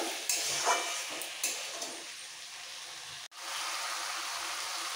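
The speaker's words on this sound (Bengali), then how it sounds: "এবার একসাথে কষাবো খুব ভালো করে।" Potol, potato and prawns sautéing with spices in a pan, a steady close sizzle and hiss broken by a few stirring scrapes, briefly cutting out before the frying resumes.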